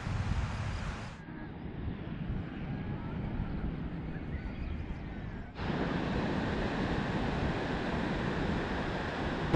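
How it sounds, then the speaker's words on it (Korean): Ocean waves roll in and break on a hot coastal stretch of a Camino de Santiago walk, a continuous washing roar of surf mixed with wind buffeting the microphone, with no talk. "파도가 약간 진짜 서핑 타기 좋게 친다랄까?"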